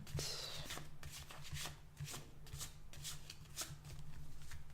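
Playing cards being shuffled repeatedly at close range, a steady riffling and flicking that continues in bursts without any talking.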